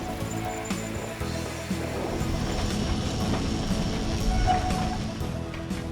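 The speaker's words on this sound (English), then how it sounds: "The tram climbing up the hill is also connected to the tram going down the" A cable tram climbing a hill, with a steady rumbling, clattering rail noise and faint squeals over a continuous moderate level, no talk.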